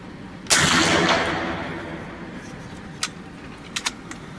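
Kral Puncher Breaker air rifle fired at a 50-metre target: one sharp, loud shot with a long fading tail, followed by a few faint clicks.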